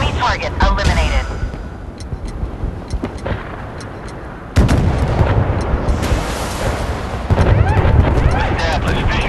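Warship cannons boom in the naval battle game Force of Warships, loud heavy blasts with rumbling aftermath and sharp reports, while game voice lines speak over the noise.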